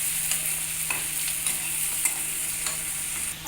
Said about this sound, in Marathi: तर चांगलं थोडं परतून घेऊया.